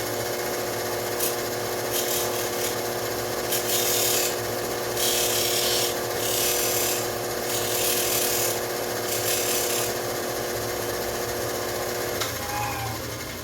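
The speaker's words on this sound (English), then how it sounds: "I'm going to put it over on my little grinder and take an angle on it and make it a little sharp" A small bench grinder runs steadily while a set screw is ground to a point for a Sixleaf SL-53 button lock knife mod, giving a continuous whine with rasping bursts of contact, close and fairly loud.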